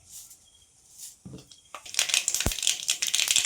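Mustard seeds splutter in hot coconut oil in a home kitchen. A few soft pops open, then a loud, close burst of dense crackling and spitting.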